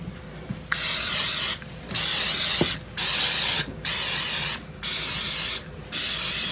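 Cooking spray hisses from an aerosol can into muffin pans for pumpkin muffins in a home kitchen, six loud bursts of about a second each separated by short pauses.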